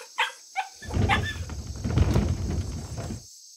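A puppy gives two short, high yips close by, then a stretch of loud rustling and handling noise follows.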